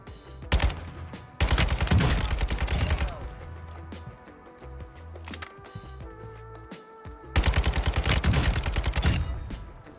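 Rapid automatic AK rifle bursts in Call of Duty Modern Warfare II multiplayer, a Kastov 762, firing in loud sustained volleys near the start and again near the end, with quieter gameplay sounds between.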